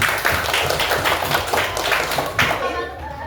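A group of schoolchildren claps their hands in a classroom after a chant, a dense, steady patter of close claps that stops abruptly near the end, with faint voices and a chuckle mixed in.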